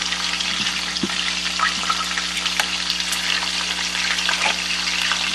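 Bacon frying in a pan at home while cheese-loaded fries are being prepared, giving a steady, close hiss of popping fat with scattered crackles and a faint low hum underneath, no talking.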